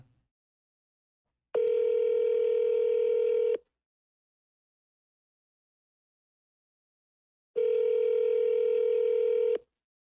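Telephone ringback tone on an unanswered call to an Air Force squadron line: two long, loud, steady rings about two seconds each, separated by several seconds of silence.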